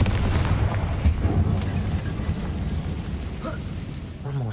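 A Confringo blasting curse in Hogwarts Legacy goes off as a heavy, rumbling explosion with low booming bursts and crackling debris, loud and sustained, with a short voiced spell call near the end.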